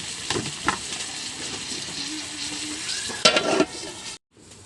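Seasoning fries in a hot pan with a steady, close sizzle, broken by a few stirring scrapes and a louder hiss near the end before it cuts off.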